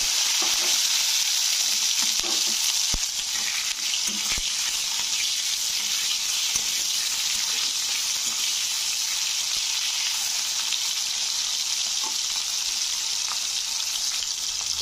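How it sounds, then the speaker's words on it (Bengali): Chopped tomato sizzles and fries steadily in hot oil over tempered panch phoron spices, a continuous loud hiss with occasional stirring clicks and no talking. "তো টমেটোটাকে তেলের সঙ্গে ভালো করে কষে নিতে হবে"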